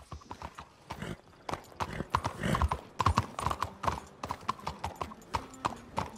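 Horse hooves clip-clop in the video game Red Dead Redemption 2, a brisk, regular close-up trot of sharp hoof strikes on hard ground, with a brief snort or whinny early on.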